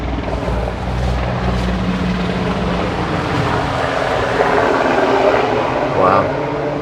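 A military helicopter passes overhead above an off-road trail park in Tennessee. Its rotor makes a steady, broad rumbling drone that stays loud the whole time and mixes with nearby vehicle noise.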